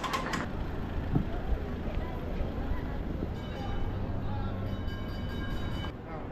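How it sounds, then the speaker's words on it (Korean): A single-car tram in Istanbul rolls past on its rails with a steady, low rumble and some metallic squeal, close by, as voices murmur nearby. "여기 지나가는 트램이 있었네 딱 하나짜리네"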